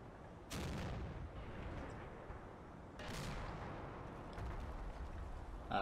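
Small arms fire rattles at a Hellcat in a video game, two bursts of distant, muffled shots with rumbling booms over a low constant background, fairly quiet overall.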